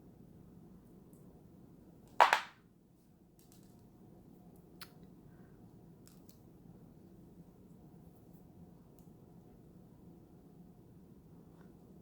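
A single sharp snip of scissors cuts through a paint chip tag, close and brief, with a faint tick a couple of seconds later and quiet room hiss otherwise.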